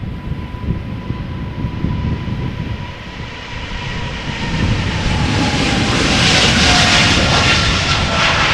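An airliner departs runway 36L at Amsterdam Schiphol Airport, its jet roar loud and steady throughout, swelling stronger in the second half as the aircraft climbs away, with no talk.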